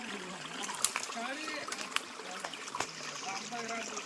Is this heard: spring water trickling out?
yes